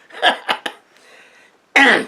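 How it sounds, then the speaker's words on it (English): Three quick, harsh coughs in a row, then a short pause before another loud burst of coughing close to the mic. "I still got that cough that I had on the previous video."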